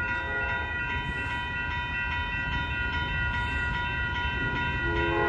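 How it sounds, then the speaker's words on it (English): Amtrak Coast Starlight passenger train led by two P-42 locomotives with Superliner cars passing on Fruitvale Ave in Oakland, a steady moderately distant rumble of wheels and engines, with faint tonal whine above. "here comes Amtrak Train 11, the Coast Starlight, your southbound train to Los Angeles"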